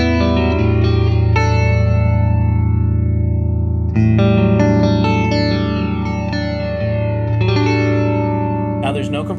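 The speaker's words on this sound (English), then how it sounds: "you can hear the tone of the guitar and the rock block and the pickups and all that good stuff" Strat-style electric guitar with StoneTone Rock Block pickups, sparkle finish, played clean with no compressor or EQ: ringing chords and arpeggiated notes sustain loud and continuous, with a brief strum change near the end.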